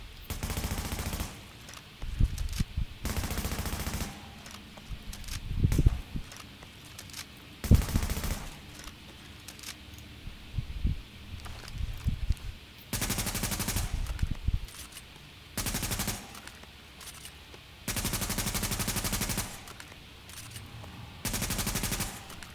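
Assault rifle and SMG automatic fire from the video game Tom Clancy's The Division comes in loud, rapid bursts. The bursts are separated by short pauses and quieter stretches of combat noise.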